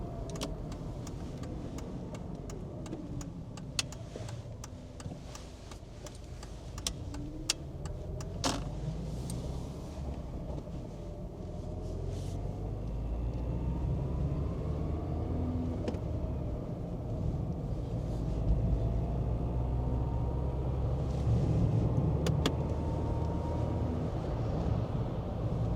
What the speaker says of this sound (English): I'm on winter tires, which are noisier.